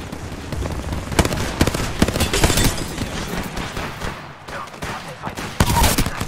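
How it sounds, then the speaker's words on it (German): Grenade blasts and gunfire in the video game Apex Legends, with dense overlapping bursts and several loud broadband booms across a busy combat mix. "Ja, friss Granaten."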